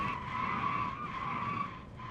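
A Roush race car at Atlanta skids with a steady, high tire squeal as a teammate plows into it, the screech holding loud and continuous throughout with no audible crash impact.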